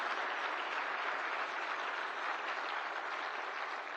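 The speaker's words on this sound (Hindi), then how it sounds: "सभी लोग जरा जोर से गौतम भाई के लिए ताली बजाइए जरा।" An audience claps for Gautam Bhai Patel at a Gujarati book release event, a faint, even wash of applause heard from a distance without any pause.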